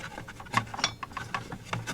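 A drive belt is worked off a Toyota Hiace engine, a close, quiet run of rubbing squeaks and short ratcheting scrapes in uneven bursts.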